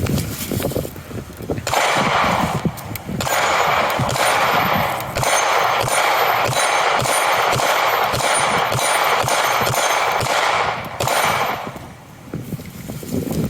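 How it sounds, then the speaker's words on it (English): A Beretta APX 9mm pistol fires a rapid string of roughly a dozen evenly spaced shots outdoors, loud and close, each report ringing into the next. "This is the Baretta APX. Let's do some shooting."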